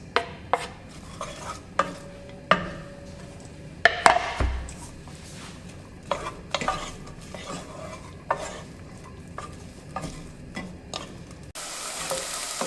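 Onions and garlic fry in a pan under a steady sizzle, punctuated by regular metal utensil scrapes and clinks against the pan, close and fairly loud.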